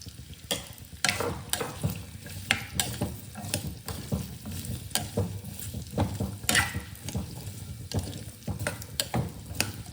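Sliced ginger sautéing in oil in a pan for ginger thokku, with a steady close sizzle broken by repeated sharp scrapes and clicks of a spoon stirring against the pan.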